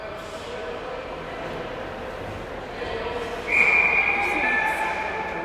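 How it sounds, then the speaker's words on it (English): A referee's whistle is blown for offside in a girls' ice hockey game, a sharp shrill blast rising over arena noise and commentary about midway through. "the whistle will blow for an offsides there"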